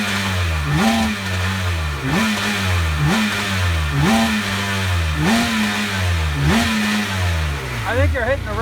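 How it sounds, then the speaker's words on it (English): A Sea-Doo personal watercraft engine that struggles to idle, revved hard against its rev limiter in a loud close series of repeating surges and cut-outs, with people talking over it. "I think you're hitting the rev limiter."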